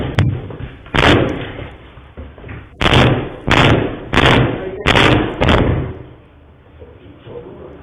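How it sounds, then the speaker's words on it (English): Several heavy doors slammed and kicked open in a row, a cluster of loud, sharp bangs and thuds that come in quick bursts over a few seconds, each one ringing briefly. "Oh, they kicked mad doors open"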